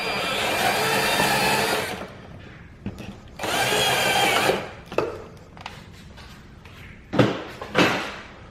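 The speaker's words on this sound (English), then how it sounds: "Maybe just a bit more drilling on that one." A power drill whirs in two sustained bursts, close and loud, followed by scattered knocks and clunks of work at the hole while replacing an inner door pull on an E90 BMW 3 Series.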